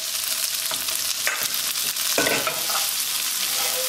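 Zucchini spaghetti, linguine and squash are stirred in a hot pan, giving a steady sizzle broken by a few scraping bursts of utensil against pan, close and fairly loud, with no voices.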